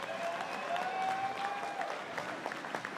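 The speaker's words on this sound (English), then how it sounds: "how about a big round of applause for fight one on the cards tonight?" An arena crowd at a boxing fight night claps in sustained applause, dense and steady for a few seconds, with a faint tonal sweep running through the noise.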